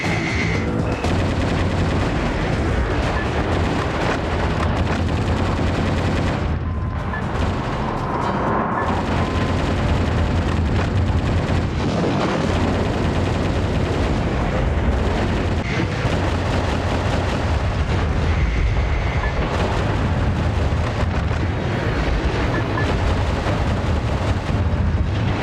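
Dense, continuous machine gun fire in the mech action game Metal Wolf Chaos XD, loud rapid bursts mixed with explosions and booms filling the whole stretch without a pause; no talking.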